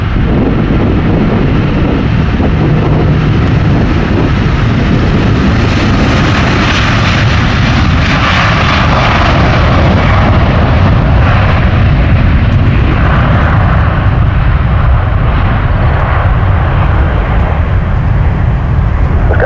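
A Boeing 777-200 airliner at MSP roars loudly and steadily through its engines during takeoff, a continuous heavy rumble with wind buffeting the microphone and no voices.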